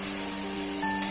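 Shrimp goes into taro stolons frying in a pan, making a brief, steady, close sizzle with a low hum underneath and a small clink just before the end.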